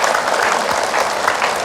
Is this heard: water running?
no